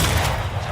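A loud, booming gunshot from the video game Banishers: Ghosts of New Eden, a single heavy blast that rings out and decays over a fraction of a second, with no talk.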